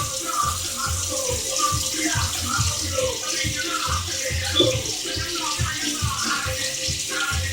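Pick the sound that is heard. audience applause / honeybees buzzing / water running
water running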